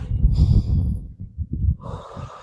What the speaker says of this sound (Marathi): त्या रेस्टमध्ये एकदम दीर्घ श्वास घ्या